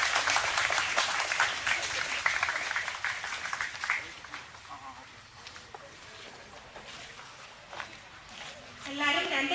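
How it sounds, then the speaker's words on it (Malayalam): An audience at a gathering bursts into dense, loud applause for about four seconds, then the clapping thins into scattered claps, murmuring and shuffling, with a brief swell near the end. "നിറഞ്ഞ കയ്യടികളോടെ നമുക്ക് തുടങ്ങാം"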